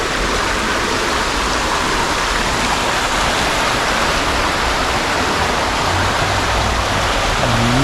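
Steady, loud rush of river water in Jamaica, a dense broadband wash with no breaks, close to the listener, with a faint low tone drifting in near the end.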